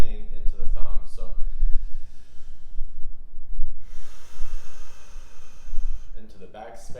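Deep, slow breathing during a seated chair Pilates exercise, with several audible inhales and exhales close to the mic and a quiet stretch in the middle.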